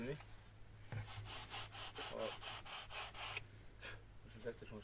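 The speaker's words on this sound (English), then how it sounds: "sanding block and sandpaper." Sandpaper on a sanding block rubbed back and forth along the edges of a wooden part for a SLEC Sky 40 model aircraft, a quick series of about a dozen close, rasping strokes in a steady rhythm over a low background hum.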